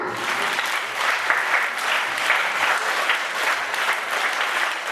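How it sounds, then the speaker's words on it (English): Students at a school math assembly clap together for a classmate, a full, steady burst of crowd applause filling the room from start to finish. "So give him a 3-cheer clap."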